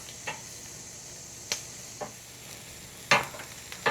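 Rack of lamb searing on a charcoal grill, a faint steady sizzle broken by a few scattered crackles and sharp clicks of tongs, the louder ones near the end.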